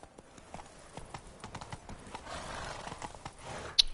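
Roach the horse in The Witcher 3 video game, steady clip-clopping hooves throughout with a short whinny near the end, under game ambience.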